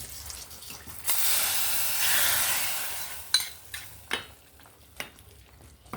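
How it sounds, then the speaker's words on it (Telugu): Hot tempering poured into amaranth and spinach pulusu bursts into a loud, steady sizzling hiss for a couple of seconds, then settles into quieter bubbling with a few sharp clinks and stirring knocks, with no talk. "తిరగమాత వేసేస్తున్నానండి. తిరగమాత వేసేసానండి."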